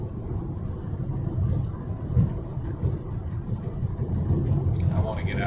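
Car driving along a road past merging traffic, a steady low rumble of engine and tire noise from inside the cabin.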